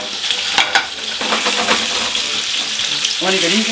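Liver searing in a hot frying pan with butter, a loud close sizzle and spatter as the pieces are turned, with a short spoken remark near the end.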